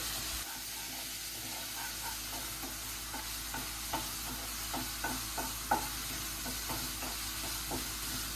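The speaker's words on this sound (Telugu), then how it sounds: "ఇంకో టమోటాని ఇలా వేసేసుకోండి బాగుంటుంది ఉల్లిపాయలతో పాటు ఒక రెండు నిమిషాలు మగ్గించుకోవాలండి" Tomatoes and onions sautéing in a pan give a steady hiss and sizzle, with regular scraping stirs repeating roughly every half second. No one speaks.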